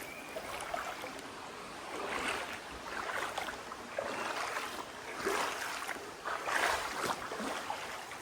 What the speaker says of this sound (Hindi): पानी में चलना पड़ता है इसके लिए